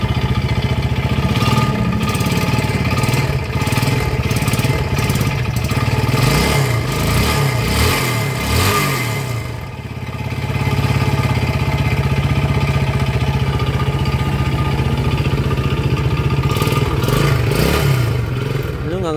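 Yamaha Jupiter Z motorcycle engine running roughly, a close, clattery idle with uneven surges and brief revs rising and falling, with a voice speaking over parts of it.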